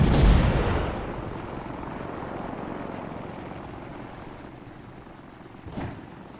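A low-flying helicopter in a Halo: Reach campaign mission sweeps in loud and close, its rotor roar fading into a lingering rumble, with a short bump of noise near the end.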